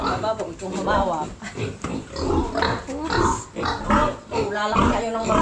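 A piglet oinks and grunts up close while people talk over it, at a rural barangay in General Nakar, Philippines, where the piglet is being bought.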